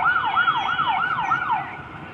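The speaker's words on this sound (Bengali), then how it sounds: "পানির গাড়ি আইছে, ফায়ার সার্ভিস আইছে" A fire engine siren wails in a steady rising-and-falling cycle, loud and fairly close, responding to a boat fire, with faint traffic rumble underneath and no voices.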